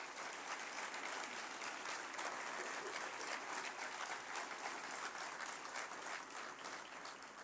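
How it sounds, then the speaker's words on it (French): Dense, sustained applause from an audience at an Eric Zemmour political rally in Valence fills the hall steadily from start to finish, with no individual voices standing out. "On peut les applaudir bien fort pour leur travail."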